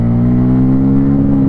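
A 2024 Bajaj Pulsar N250 roadster motorcycle is ridden close up, its engine a loud, smooth, steady hum with strong harmonic tones held evenly as it pulls through a gear.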